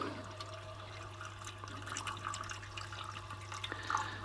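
A tap runs slowly into a water trough, a steady soft trickle with light drips and splashes over a low background hum.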